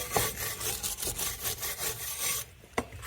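Rust and dirt are scrubbed off inexpensive garden hand tools with rough, rhythmic rasping strokes, close and fairly loud, ending in a couple of sharp knocks.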